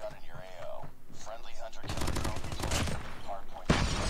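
Rapid automatic AK117 rifle fire rings out in COD Mobile, dense bursts of gunshots following a stretch of other game sounds, loud and close with a final sharp burst at the end.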